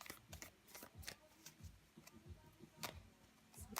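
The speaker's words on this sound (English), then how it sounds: "I'm going to finish shuffling for you." Tarot cards being shuffled up close, a soft, uneven run of quick riffling clicks and slaps, quiet and steady with no talking.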